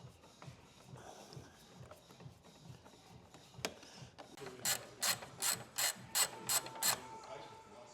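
A ratchet undoes bolts on the intake of a Golf Mk4. Faint clicking and handling noises come first, then a quick run of sharp, close ratcheting bursts.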